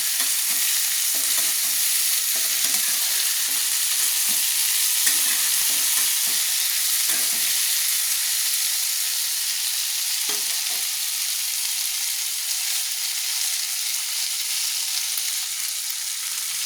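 Fried string beans are stirred in a frying pan under a constant loud sizzle, with frequent short scraping strokes and soft knocks of a utensil against the pan.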